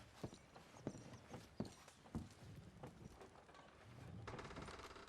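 Horse hooves clip-clop in Red Dead Redemption 2 as a few irregular, moderately loud thuds, followed by a steadier wash of background noise; no one speaks.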